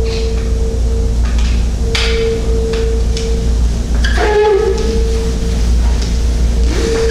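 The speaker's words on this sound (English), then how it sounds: "we want to bring the speed of the buffer up to 1500 RPM" A rotary paint buffer spun up to 1500 RPM polishing a car's clear coat gives a steady, continuous motor hum with a constant whir that holds for the whole stretch.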